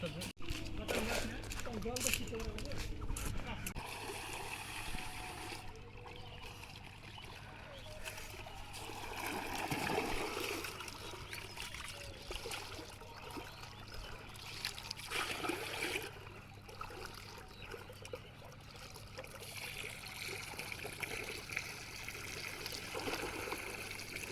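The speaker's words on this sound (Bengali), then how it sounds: "চাল তো ধোয়া হয়ে গেল" Water trickles and splashes as rice is washed at the edge of the Bhaba river, a steady wet dribble throughout with outdoor noise and people chatting over it.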